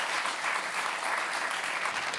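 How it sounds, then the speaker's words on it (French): Steady, dense applause from a television talk-show studio audience, filling the whole stretch evenly at moderate loudness with no talking on top. "Vous pouvez l'applaudir."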